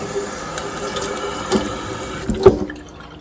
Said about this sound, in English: I'm going to just give it a quick rinse.